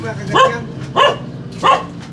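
A dog barks three times at an even pace, loud and close, each bark short and sharp with a slight whimpering edge, over a low background hum.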